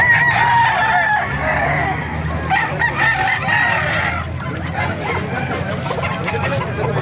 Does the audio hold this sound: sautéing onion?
no